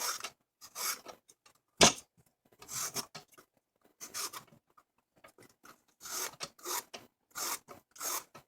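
Zucchini is sliced into thin strips with a peeler-like slicer, giving a series of short, close rasping strokes in an irregular rhythm with brief pauses between passes.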